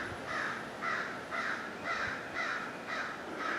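A crow caws repeatedly in an even rhythm, seven or so harsh calls evenly spaced, somewhat distant and moderately loud over faint outdoor ambience.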